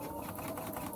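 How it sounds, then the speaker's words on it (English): A sewing machine runs a short, steady burst of rapid stitching along the side seam of a fabric project bag, close and fairly quiet. "I'm now sewing down the side seams and across the bottom of the project bag."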